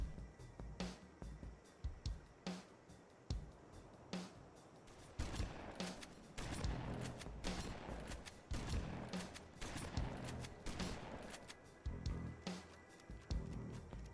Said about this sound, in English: we have the shotgun, which in my opinion is probably the most finished weapon in this build